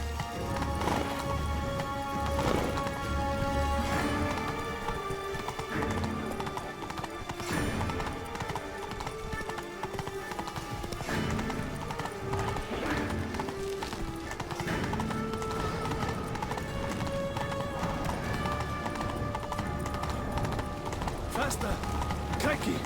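Roach the horse galloping in The Witcher 3, a steady drumming of hooves beneath game music and ambience, with a voice speaking over it at times.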